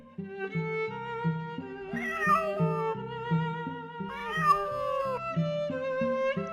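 A domestic cat lets out two drawn-out, gliding meows a couple of seconds apart, heard over a steady, bouncy background tune.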